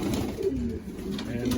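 Racing pigeons coo softly in a loft, with low rolling calls close by under faint background noise.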